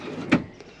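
A soft-closing storage drawer in a VW T6 campervan slides shut: one brief, muffled thud near the middle, then a faint second tap as it settles, with low background hum.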